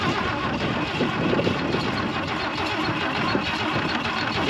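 A starter motor cranks the engine of an abandoned 1966 Chevy Biscayne that has sat for 20 years, with continuous, loud, close mechanical churning and no catch.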